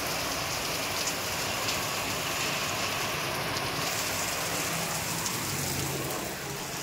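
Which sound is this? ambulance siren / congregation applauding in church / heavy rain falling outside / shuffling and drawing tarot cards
heavy rain falling outside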